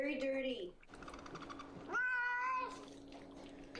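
A dirty stray cat meows a couple of times, with a clear drawn-out cry near the start and another rising call midway, loud and close, amid background chatter and faint trickling water.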